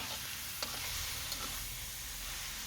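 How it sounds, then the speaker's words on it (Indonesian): Chicken sautés in a wok with a spice paste for mie ayam oil, giving a loud, steady sizzle that runs throughout, with a couple of brief clinks from stirring. "Kemudian kita tumis-tumis sampai ayamnya mengeluarkan kuah."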